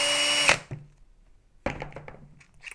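A DeWalt power drill whirs briefly while unscrewing a part on an Element RC Enduro, then stops with a thunk, followed by a few close clicks and knocks of handling.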